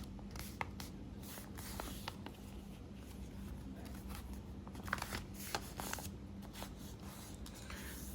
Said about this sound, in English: Fold this flap back down and fold the whole thing in half.